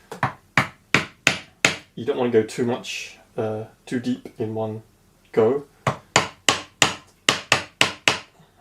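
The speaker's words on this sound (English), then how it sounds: "chopping out piece by piece with a chisel and a hammer" Hammer blows on a chisel chopping out wood while making a marking gauge: a steady run of sharp, close, evenly spaced strikes before and after a stretch of talking.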